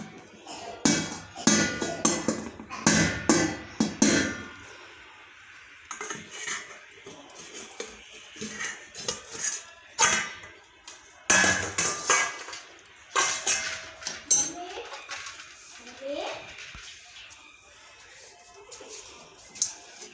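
Sweet potatoes being turned in a pan, heard as repeated clanks and scrapes of metal on cookware in uneven bursts; some speech mixes in between the clatter.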